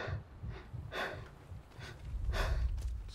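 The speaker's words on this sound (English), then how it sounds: "Slightly heavy breathing right now." Heavy, slightly labored breathing of a sniper character in the video game Sniper Elite 5, a few close breathy inhales and exhales in a loose rhythm over a low background rumble, with no talk.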